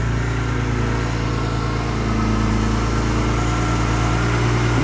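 A BMW E46 M3 with a newly installed S54 engine idles at a steady, loud low rumble with a constant hum and no talking.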